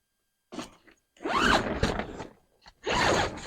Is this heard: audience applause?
no